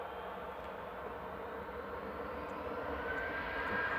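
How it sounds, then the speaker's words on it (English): Distant, steady jet rumble of a TUI Boeing 787-9 Dreamliner at Manchester Airport, a faint broadband roar holding evenly and growing slightly louder, with no one speaking. "787-9 Dreamliner."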